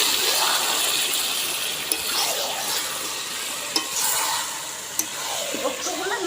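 Chicken pieces dropped into a hot pan of cooked-down spices give a loud, steady sizzle and hiss with occasional stirring clacks, continuous throughout.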